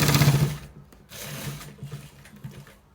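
A sewing machine stitching a shirt collar runs in short bursts, with a louder stretch at the start and quieter, uneven runs after a brief pause.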